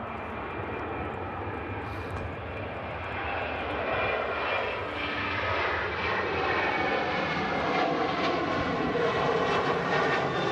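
A Ryanair airliner bound for Alicante departs Manchester Airport, its jet engines giving a steady, broad roar that builds gradually at a moderate distance, with no voices over it.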